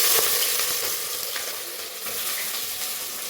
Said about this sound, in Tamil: ஆனியன் சேர்த்துக்கிறேன்.